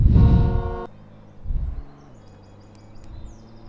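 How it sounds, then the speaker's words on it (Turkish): A loud, buzzy car horn blast in the Roblox video game, then a second shorter honk, followed by quieter engine rumble and faint beeps. "Bunun kornası da böyle."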